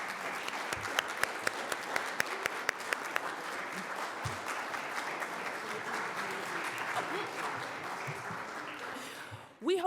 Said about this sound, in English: Please join me in giving our amazing panelists a round of applause for their insight and contributions.